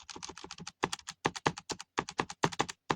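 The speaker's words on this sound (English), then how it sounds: "I'm clicking frame by frame this." Rapid clicking on a computer while stepping through footage frame by frame, a dense run of crisp, close taps in quick irregular bursts with short gaps and no voices.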